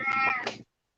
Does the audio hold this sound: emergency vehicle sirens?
no